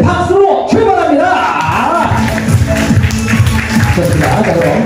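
A crowd of guests claps at a Korean first-birthday doljabi ceremony, with loud, dense applause mixed with cheers and talk throughout.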